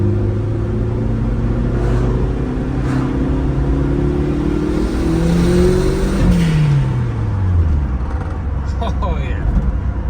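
A car on a test drive after repairs, its engine climbing through the gears as it accelerates and rumbles steadily close by, with a person talking over it.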